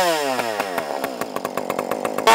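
A modified chainsaw idles and sputters nearby, its engine note dropping and unevenly popping in a rough, rapid rhythm before revving sharply at the end.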